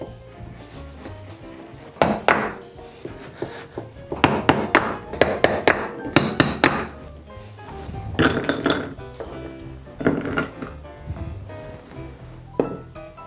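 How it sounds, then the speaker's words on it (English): A small hammer or heavy wooden spoon taps a knife through a block of clear ice for whiskey, giving a dozen or so sharp, close cracking clinks in irregular bursts with short pauses between. "You're gonna take a little hammer or a heavy wooden spoon on your knife, and you're just gonna sort of tap right through."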